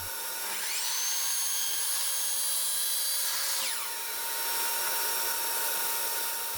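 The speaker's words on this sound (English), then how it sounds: "So I started by cutting the pieces of wood I wanted out over on the miter saw." A miter saw fitted with a fine tooth blade cuts through wood, a loud steady high whine rising as the blade bites in around the first second and easing off near four seconds, then continuing to spin.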